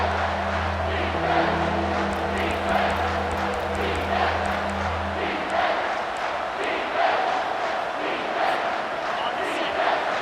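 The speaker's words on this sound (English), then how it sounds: "This crowd is trying to inspire this defense to make a big red zone stop." A packed college football stadium crowd roars and chants steadily throughout, loud and dense, trying to rally the home Missouri Tigers defense for a red zone stop, with a low rhythmic drone beneath the noise for the first half.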